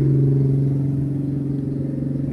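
A Honda Beat scooter engine holds at full throttle with a loud, steady, close drone, then the pitch starts to fall as the revs drop back.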